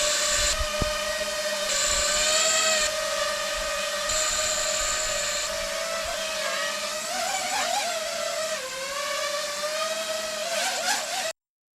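The motors of a 3D-printed 5-inch FPV drone whine steadily in flight, a high buzzing tone that rises and dips as the throttle shifts, loud and continuous throughout.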